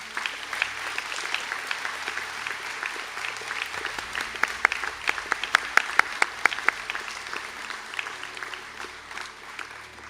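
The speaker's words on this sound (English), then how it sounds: "And I now ask everybody to give a round of applause in Guidon's memory for his achievements." Steady round of applause from a seated audience at a college conferring ceremony in Sligo, dense clapping with sharper individual claps standing out, continuing for about ten seconds without voices.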